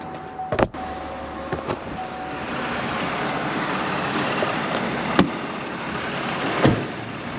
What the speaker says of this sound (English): Let me turn and start the truck so I'll show you this.